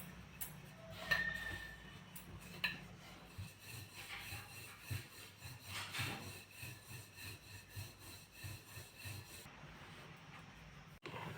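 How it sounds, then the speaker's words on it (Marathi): Repeated soft wooden rubbing and rolling strokes of a rolling pin on a wooden board rolling finger millet dough, in a steady back-and-forth rhythm, close up, with no talking. "आता हे पोळपाट लाटणे घेतलेलं आहे याच्यावर हे लाटून घेत आहोत"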